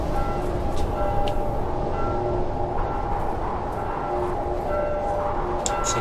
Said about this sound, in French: Mais pourquoi la cloche sonne?